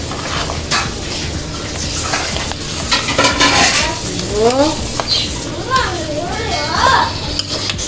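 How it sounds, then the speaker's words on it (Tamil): Scraping and stirring coconut into mutton head curry in a pan with a soft sizzle, while children's voices chatter and play in the background. "தேங்காயை போட்டதுக்கப்புறம் நல்லா இப்படி கிண்டி விட்டுட்டு"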